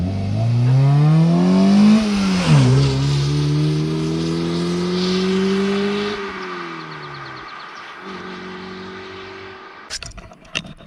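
A Mazda MX-5 Miata of the NC generation with a Racing Beat cold air intake runs loud and close, its engine note sweeping up and down through revs in steady tones before dropping away and ending in a few clicks.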